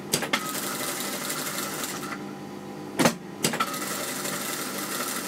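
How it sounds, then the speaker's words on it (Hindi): A sewing machine stitches around a curve in lined trouser fabric, a quiet steady whirring run with a few sharp clicks and short bursts. "अब हम सिर्फ गोलाई पर सिलाई करेंगे।"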